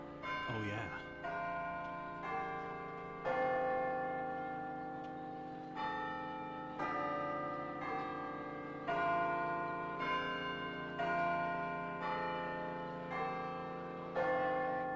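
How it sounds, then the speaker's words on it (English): School chimes ring out in a series of sustained bell tones, each strike fading before the next. The bright, resonant peals repeat steadily for the full span, loud and near, over a brief voice at the start, in the English-dubbed anime Voltage Fighter Gowcaizer, from VHS. "The chimes are ringing!"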